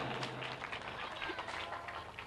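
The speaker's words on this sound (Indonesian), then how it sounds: "Tepuk tangan yang meriah untuk Andika" Lively applause for Andika at a religious competition event. A dense, steady patter of clapping from a gathered audience sounds slightly distant and continuous throughout.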